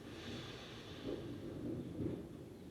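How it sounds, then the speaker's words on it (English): A person breathing in slowly through the nose during a singing warm-up, a soft airy inhalation with a few gentle swells over a low, quiet background hum. "breathing in through the nose"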